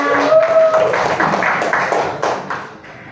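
A reunion crowd of university alumni applauds together, a busy spread of clapping hands that holds steady and then tapers off toward the end, with faint voices mixed in.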